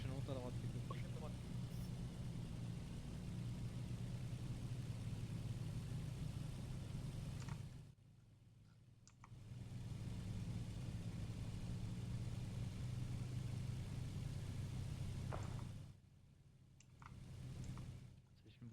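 A car engine in the Arma 3 military simulation game rumbles steadily at mid pitch, dropping out twice for a few seconds, as a vehicle drives into the player; voices talk over it.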